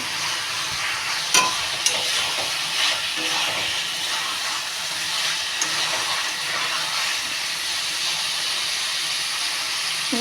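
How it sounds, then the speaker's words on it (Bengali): Chicken curry with potatoes fries in a pan under a loud, steady hiss and sizzle, with a couple of sharp scraping stirs near the start. "দু দু পাঁচ মিনিট পর পর ঢাকনাটা খুলে নাড়া দিতে হবে মানে তলে যেন লেগে না যায়"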